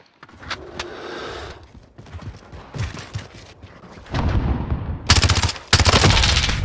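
A sentry gun firing in a Call of Duty multiplayer match, rapid machine-gun bursts that grow louder and denser toward the end, with mechanical clicks and other battle noise in between.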